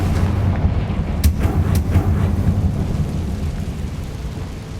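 A Confringo fire spell blast in Hogwarts Legacy: a loud, rumbling roar of fire with a few sharp crackling bursts early on, fading slowly toward the end, with no talk.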